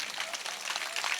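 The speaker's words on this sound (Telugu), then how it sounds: "చప్పట్లు కొడుతూ దేవుని నామానికి కనపరుచుదాం." A church congregation claps together during a Christmas service, a brief burst of dense, moderately distant applause.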